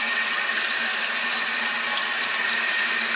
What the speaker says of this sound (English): I'm rinsing this off in hot water